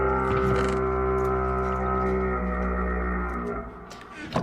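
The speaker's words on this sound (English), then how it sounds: "Either way, those are all the goat horn sounds." A loud, sustained goat horn blast from the video game Skyblock, with rich, buzzing harmonics, dense and droning, holding steady for several seconds before fading with a brief flutter at the end.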